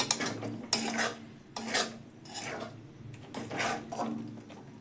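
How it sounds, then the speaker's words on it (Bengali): Spice paste poured into a pan of frying spices for a cauliflower roast, followed by repeated scraping strokes of a spatula against the pan with a soft sizzle underneath, close and steady. "মশলা আমার ভাজা হয়ে গেছে, এবার আমি এই পেস্টটা ঢেলে দিচ্ছি"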